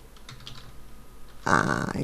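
A burst of quick, close keystrokes on a computer keyboard comes in near the end, after a quiet stretch with faint room noise.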